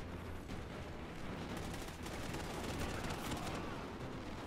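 Rapid gunfire in Call of Duty Ghosts on the Wii U rattles steadily throughout, faint and continuous like automatic weapons firing in a firefight.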